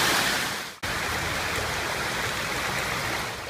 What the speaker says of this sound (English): this is the water as it cascades over into Dr. Farrell's property